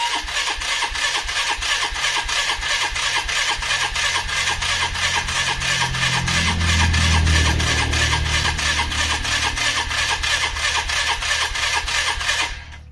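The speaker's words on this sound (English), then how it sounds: "I'm just going to turn her over until that fuel comes out clear." A Polaris Trailblazer engine cranks over without starting, a fast rhythmic churning of the starter that holds steady for about twelve seconds, close and loud, then stops.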